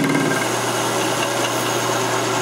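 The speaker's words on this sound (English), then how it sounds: "turn it in while the lathe is running till it starts to hit the weld" A metal lathe cutter turns down the welds on an M70 trunnion, giving a steady whirring drone of the spinning machine with a gritty cutting edge, close and continuous throughout.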